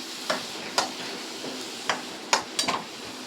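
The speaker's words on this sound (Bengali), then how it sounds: "টমেটোটা দিয়ে আবার একটু ভালো করে ভেজে নেব।" Tomatoes fry in a pan for a potato posto dish, with soft background sizzle and several sharp stirring scrapes and taps from a spatula. No one speaks.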